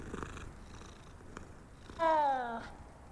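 Cat in the video game Hogwarts Legacy, faint low sounds followed by a short, clear, tonal meow-like call near the end, with no talking.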